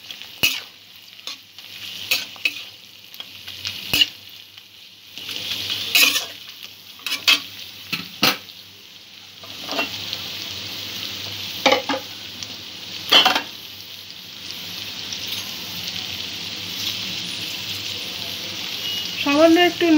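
Cut vegetables for street-style egg chowmein stir-fried in a pan, with a steady hiss of frying broken by repeated sharp scrapes and clacks of the stirring utensil, close and fairly loud.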